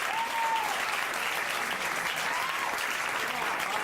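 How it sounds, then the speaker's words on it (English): Audience applauding comedian Josh Comers as he takes the stage, a steady wash of many hands clapping throughout, with faint whoops rising over it. "A round of applause for Josh Comers"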